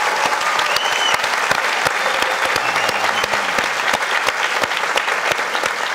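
Steady, loud studio audience applause closing a Turkish talk show, sustained dense clapping for six seconds with no break.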